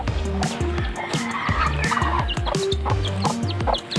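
A hen clucks repeatedly up close near a chick, a busy rhythmic series of short clucks with other faint background noise.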